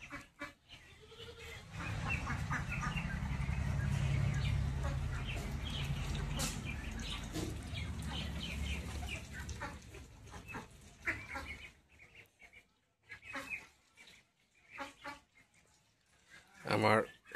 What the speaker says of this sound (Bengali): আমার শখের চইয়ের হাঁসগুলা।